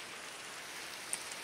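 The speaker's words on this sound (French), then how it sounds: "il pleut" Steady game rain in Minecraft, a soft even hiss of falling drops with no pauses, fairly faint and heard alone without talk.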